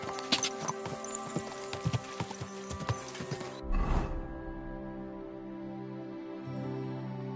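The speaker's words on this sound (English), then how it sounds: "Beautiful horse." Horse hooves clip-clop in a quick irregular rhythm, close by, then stop after a sharp burst; a low rumbling tone carries on afterward.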